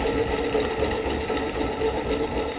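A wood lathe spins a large platter blank as the turning tool feeds steadily into it, making a continuous, close, droning hum with a scraping texture and no talking.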